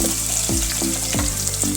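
Whole spices for vegetable pulao (kasuri methi, bay leaf, stone flower and marathi moggu) roast in hot oil with a steady, close sizzle, broken by a few stirring scrapes and no talking.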